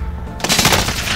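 Video-game machine-gun fire bursts in abruptly after a short quiet lead-in, loud and continuous rapid shots at close range.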